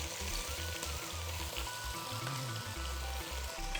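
Onion, ginger and garlic frying in a pan for chicken fried rice, making a continuous, even crackling sizzle throughout with no voices.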